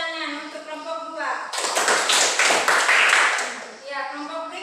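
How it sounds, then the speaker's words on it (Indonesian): Schoolchildren clapping for a group in a classroom: a burst of quick, uneven hand claps lasting a couple of seconds, bracketed by a voice talking before and after. "Tepuk tangan untuk kelompok 2."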